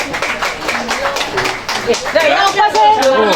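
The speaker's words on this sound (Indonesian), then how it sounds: "Tepuk tangan untuk Bapak Agung" Guests at a 30-year school reunion clap for a man, a brief scattered round of hands clapping that gives way to voices talking and laughing nearby.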